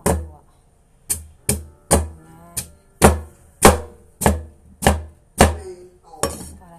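Knife chopping carrots on a board for a pork rib soup: about ten sharp, evenly spaced chops ring out close and loud, each with a brief decay, and no talk over them.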